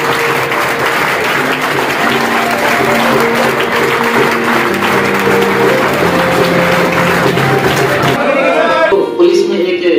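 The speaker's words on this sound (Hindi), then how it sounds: "शांत हो जाइए, उनकी स्वागत के लिए जोरदार तालियां।" Loud, sustained applause welcoming a newly selected police recruit at a coaching institute, filling nearly the whole stretch before cutting off abruptly near the end, with a voice and music-like tones running underneath.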